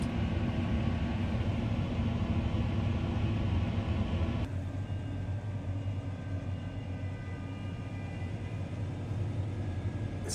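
The engine of a combine harvester cutting barley in a field runs steadily, a loud continuous mechanical rumble and drone that shifts slightly in tone partway through, with no talk.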